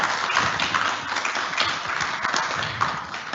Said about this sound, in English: let's give Nolan and Neha a round of applause.